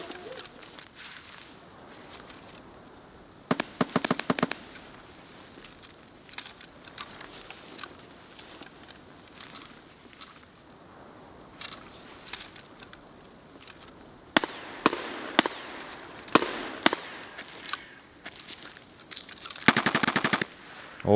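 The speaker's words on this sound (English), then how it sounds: "I believe that's coming from the old gas station, the shots" Gunfire from an old gas station in the video game Escape from Tarkov, with scattered distant shots and several rapid automatic bursts building toward the end.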